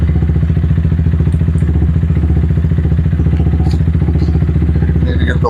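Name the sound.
motorcycle engine running with clutch pulled in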